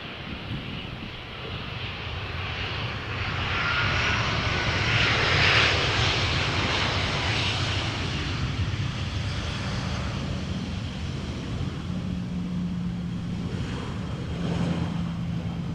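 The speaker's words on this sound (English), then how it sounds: "You can see how the nose of the airplane is turned more towards us as it approaches the runway." Passenger airliner approaching the runway at Amsterdam Schiphol Airport in a crosswind, a broad, steady engine roar that swells slightly and stays loud and near throughout, with faint low hum beneath and no voices.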